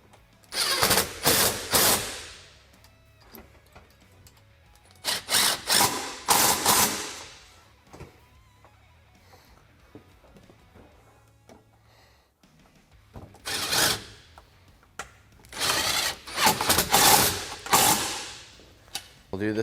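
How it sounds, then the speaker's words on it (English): A power tool tightens the clamp hardware of a flip windshield on a Yamaha Wolverine RMAX 1000 UTV cage, in four loud, close bursts of rattling mechanical noise separated by quiet pauses. "So now we're going to go ahead and fully tighten this hardware right here"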